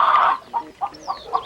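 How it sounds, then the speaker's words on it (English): A toy chicken from a farm-animal toy set clucks a few short times in quick succession. The clucks are close and clear with no other sound. "Chicken."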